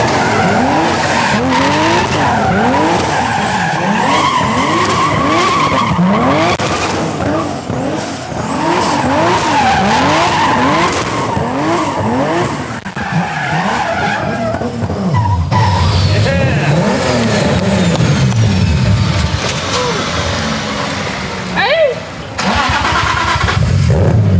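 A powerful 1000-horsepower BMW E30 engine roars and revs repeatedly, rising and falling in pitch, loud and close, with occasional crackles and faint voices underneath.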